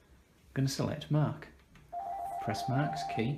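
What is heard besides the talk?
Panasonic KX-NT553 office phone ringing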